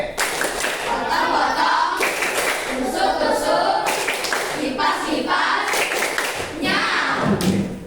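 A primary school class in Palembang claps through another round of 'tepuk sate', repeated patterned bursts of many hands in a shared rhythm, loud and near, with children calling out between the clapping phrases.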